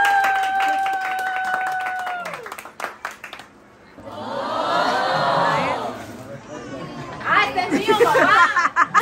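A family at a home gift celebration for a father claps, brief uneven clapping mixed with chatter, laughter and voices close by.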